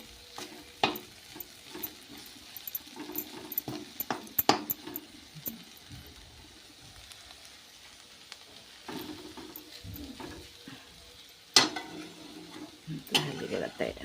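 Okra and masala being stir-fried in a wide kadhai, with faint sizzling under sporadic spatula scrapes and metal clinks, quiet and close with occasional louder knocks.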